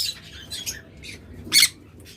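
Cockatiels calling in a small group, with several short high squawks and chirps and one louder shrill call near the end over a low background murmur.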